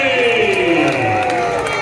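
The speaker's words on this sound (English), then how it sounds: "Let's give him a big round of applause." Crowd at a baseball park cheering and applauding after a great pitch, a dense wash of cheers and whoops with tonal shouts, a public-address voice and background music layered in.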